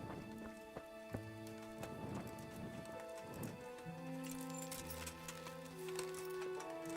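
Horse hooves clop in Kingdom Come: Deliverance, soft irregular footfalls mixed with faint rain-like patter and low musical tones, quiet and distant.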